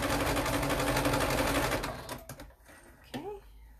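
A sewing machine stitching a fabric face mask runs in a fast, loud, steady whir for about two seconds, then slows and stops, followed by a brief clunk and a short voice.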